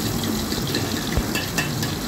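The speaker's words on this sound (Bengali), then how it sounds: "আলু, ফুলকপি, মটরশুঁটিটাকে গরম তেলের মধ্যে দিয়ে দিয়েছি।" Potatoes, cauliflower and peas fry in hot oil with a steady, dense sizzling hiss that runs evenly throughout, close and moderately loud with a few faint clinks and no talking.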